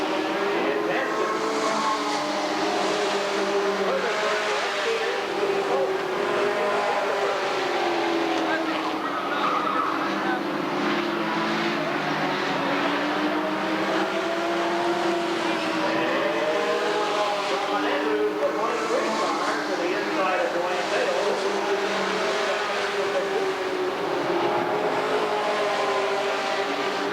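Sportsman class race cars at Redwood Acres Raceway in a main event, engines droning steadily around the track with shifting, overlapping pitch, continuous and moderately distant under an announcer's commentary.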